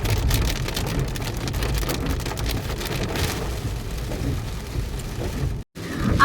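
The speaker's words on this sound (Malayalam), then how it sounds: "ചെറുതായിട്ട് മഴ ചാറ്റിക്കൊണ്ടിരിക്കുന്നു" Steady light rain pattering on a surface during a road trip near Nandi Hills, a constant close hiss of drops with a brief dropout near the end and no talking.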